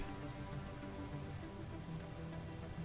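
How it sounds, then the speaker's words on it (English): Steady rain on surfaces in the Space Engineers video game, a continuous dense patter at an even, moderate level with no breaks. "Rain."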